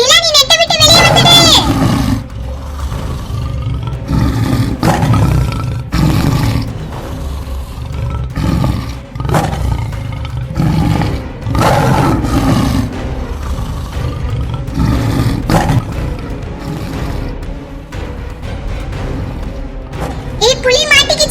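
A cartoon tiger roars loudly in repeated bursts amid a busy soundtrack with thuds and other effects, while animated voices talk over it.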